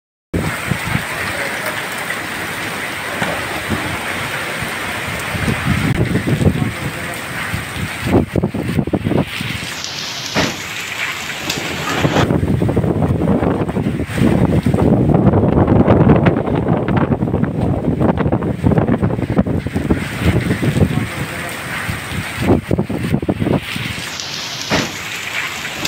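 Rain and gusting wind outdoors in Multan after a hailstorm, loud and continuous, with wind buffeting the microphone in strong surges and steady rain hiss throughout.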